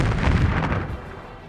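A rumbling explosion effect as a Star Wars Armada ship is rammed and destroyed, a loud, close, low boom that fades over about a second and a half.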